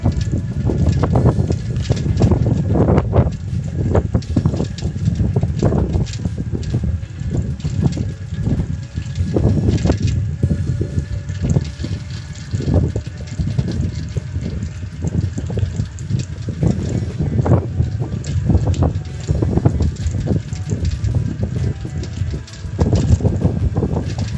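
Heavy wind roar buffeting the microphone while riding a 350 W electric-assist bicycle uphill into a headwind, a loud constant rushing with gusty surges throughout.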